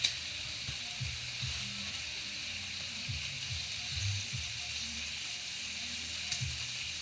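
Bacon frying in a greasy pan gives a steady hiss and sizzle throughout, with faint low scraping and clinks from handling the strips, no voices.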